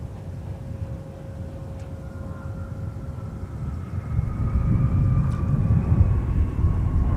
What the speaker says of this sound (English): So here's our Embraer from Cedar Rapids. It's an E175LR.